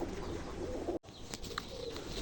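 Soft cooing of Pakistani Kamagar pigeons murmurs steadily against a low background hum, with a brief dropout partway through and a few faint chirps.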